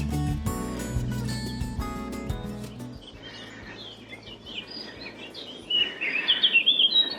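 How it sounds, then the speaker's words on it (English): Bright chirps and short trills from birds, fairly faint and scattered, growing more active toward the end over a soft outdoor background on a coastal landslip between Seaton and Lyme Regis in March. "Lots of bird song."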